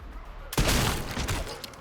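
A single loud shotgun blast in Resident Evil Requiem fires at mid range after a near-silent lead-in, with a heavy boom and a short rumbling tail.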